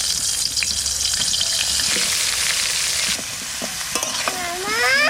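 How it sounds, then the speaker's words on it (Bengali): Young green jackfruit pieces frying in oil in a kadai in a village kitchen, a bright steady sizzle with stirring scrapes and clinks up close. "কড়াইতে আর একটু তেল দেবো, নিয়ে এঁচড়গুলোকে ভাজবো।"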